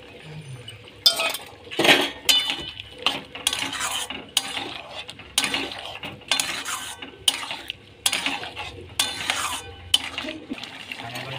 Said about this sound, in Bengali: এই যে 1 চামচ কর্নফ্লাওয়ার গুলে নিয়েছিলাম, এটা ঢেলে দিচ্ছি